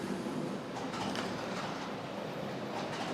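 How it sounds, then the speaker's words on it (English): A model Class 47 locomotive and a Winhoff train run around a home model railway layout, giving a faint, continuous rolling rumble with light rhythmic clicks from the track. "I have the Winhoff train going around tonight, and I have a Class 47 going around"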